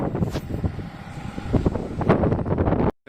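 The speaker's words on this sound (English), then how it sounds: "It is super windy." Strong gusting wind buffets the microphone at a boatyard, a loud, rough, low roar surging and easing in waves, ending in a sudden brief drop to near silence.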